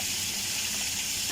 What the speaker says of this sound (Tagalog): Nakulo ng tubig natin.